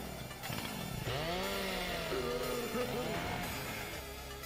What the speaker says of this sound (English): Hate the chainsaw guys.